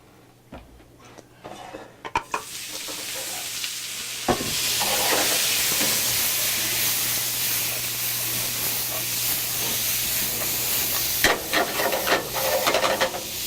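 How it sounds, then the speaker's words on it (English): Garlic sautéing in olive oil, a steady hiss and sizzle that swells after a few clattering knocks of the pan and runs continuously, with scraping stirs near the end. "Okay, you're going to stir fry that, saute it."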